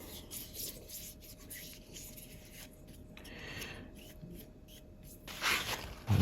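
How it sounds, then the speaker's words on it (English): Cooking oil being rubbed by hand into a part of an antique Sargent padlock, a soft, steady scraping and rubbing up close that runs continuously with a few small clicks. "put a little oil, rub it in really well"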